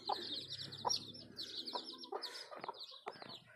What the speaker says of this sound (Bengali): এই সাদা মুরগিটা কিন্তু এখানে চলে আসলো খাওয়ার জন্য তার বাচ্চা নিয়ে